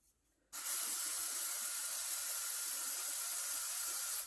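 After a brief quiet moment, a single long, steady hiss of an aerosol spray runs for several seconds, close and even, then stops.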